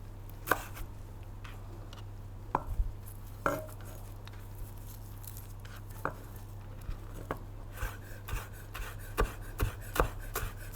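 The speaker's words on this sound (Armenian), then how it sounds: "Մի թեթև մաղդանոս եմ կտրատում դիզայնի համար։" A knife chops parsley on a board for garnish, with sharp irregular taps that grow more frequent toward the end over a low steady hum, no talking.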